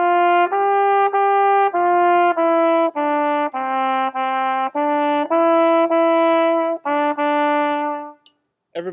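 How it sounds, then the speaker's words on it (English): Ode to Joy melody played as a sequence of about a dozen clean sustained tones with rich harmonics, steady and evenly paced, a short gap near the end, with no talk. "It's the melody to Ode to Joy."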